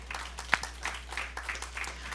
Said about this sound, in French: Par vos acclamations au nom de Jésus